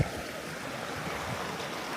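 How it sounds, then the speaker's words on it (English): A mountain creek on the Appalachian Trail in the White Mountains, flowing as a steady broadband rush of water that stays even and fairly close throughout, with no voices over it. "look at that beautiful creek behind me"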